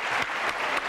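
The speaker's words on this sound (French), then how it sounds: "on peut vous remercier et vous applaudir, messieurs" A brief burst of steady applause from a French television studio audience, dense clapping throughout.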